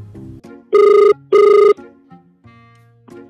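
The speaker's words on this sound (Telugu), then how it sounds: "మొన్న ఏపీ మాజీ మంత్రి అనిల్ కుమార్ సార్కి ఫోన్ వచ్చింది" A telephone rings loudly for an incoming call, two strong sustained electronic rings close by, separated by a short gap, with softer musical tones around them.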